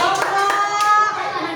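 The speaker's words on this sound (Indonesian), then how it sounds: "Ya, silakan kembali tepuk tangan ya." A class claps hands during an online teaching session, a short, close burst of clapping over a steady tonal hum.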